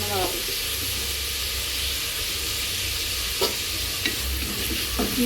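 Curry leaves fry in hot oil in a pan for chicken curry, giving a loud, continuous close sizzle with a few faint stirring clicks on top.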